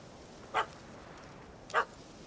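Two short, separate dog barks in The Witcher 3: Wild Hunt, Hearts of Stone, about a second apart. Both are fairly faint and a little distant over a steady low ambient bed.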